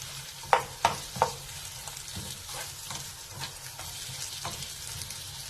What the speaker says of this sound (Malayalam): ഇത് ഹൈ ഫ്ലെയിമിൽ ഇട്ട് തന്നെ നന്നായിട്ട് മൊരിച്ചെടുക്കണം